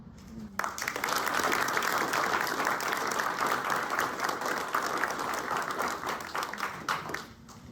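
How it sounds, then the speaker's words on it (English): Sustained applause from a crowd after a politician's announcement, steady and fairly loud, tapering off at the end. "I think that deserves definitely another round of applause"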